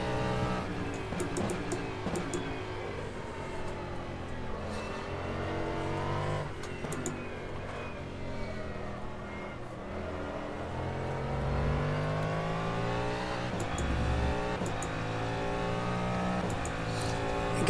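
A simulated race car in rFactor 2 revs and shifts through its gears, the engine note climbing and dropping repeatedly over several upshifts, loud and continuous with no talk.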